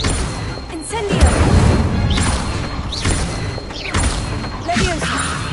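Incendio fire spell cast in a Hogwarts game, a series of sharp whooshing casts and crashing fiery impacts repeating roughly every second, loud and busy with swooping effects between hits.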